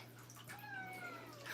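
An older cat gives a single faint, drawn-out meow, close but quiet, over a low steady background hum.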